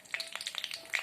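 Fennel seeds splutter in hot oil for a Tamil mutton kola urundai kulambu, a quick run of small, sharp crackling pops over a faint steady hiss.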